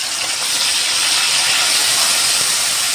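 Garlic and onion paste hits a hot pan with bay leaf, producing a loud, constant hissing sizzle that holds steady throughout, close and with no voices over it.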